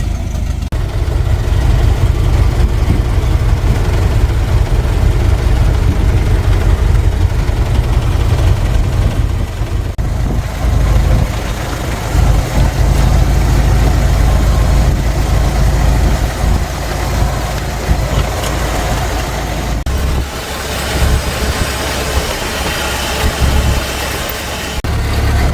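A Ford Model T engine running steadily while the car drives on light throttle with a tailwind, suffering an intermittent ignition failure; a continuous low, loud rumble with no talk.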